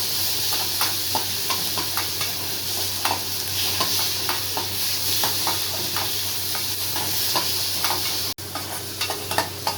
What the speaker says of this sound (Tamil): தக்காளி கொஞ்சம் போட்டு வதக்கிக்கலாம்.